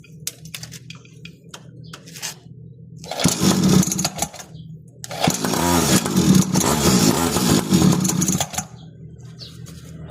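A motorcycle engine, just after its carburetor and throttle were cleaned, cranks and then catches into a loud, close, rough idle that runs in two long stretches with a pause between.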